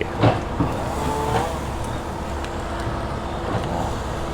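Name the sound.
tractor clearing land and tree roots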